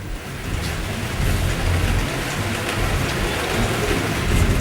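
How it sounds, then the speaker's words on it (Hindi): Steady, loud rain pours down during a stretch of intermittent rainfall in Tamil Nadu, a dense continuous hiss of drops on surfaces with a low rumbling undertone throughout, no voices. "करीब 15 दिनों से तमिलनाडु के अलग अलग हिस्सों में रुक रुक कर बारिश हो रही है।"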